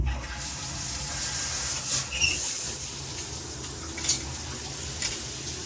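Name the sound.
shower running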